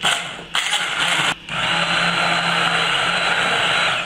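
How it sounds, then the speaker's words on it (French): An immersion blender whirs through a chorizo sauce, starting with two short bursts and then running steadily and loudly for a few seconds, close up with no talking. "maintenant, je vais la passer au mixeur plongeant"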